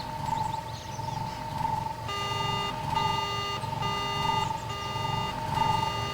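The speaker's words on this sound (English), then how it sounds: "we're gonna go ahead and slice into it and sound an alarm" A speeder alarm blares in Star Wars KOTOR after being sliced, repeating harsh electronic beeps in regular bursts of roughly a second each over a steady background hum.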